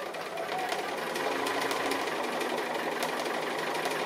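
A sewing machine runs continuously during free-motion applique stitching, a close, steady high-speed whirring chatter holding an even level throughout with no voices.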